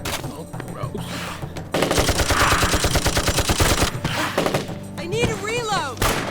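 Sustained automatic gunfire from an audio drama set during a lockdown: loud rapid machine-gun bursts hammer for about two seconds, then break off into scattered shots and thuds, with voices partly heard.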